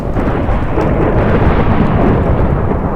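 Thunder rumbles through a Minecraft storm on the Lord of the Craft server: a loud, continuous deep roll that fills the whole stretch without a break, with no voices over it.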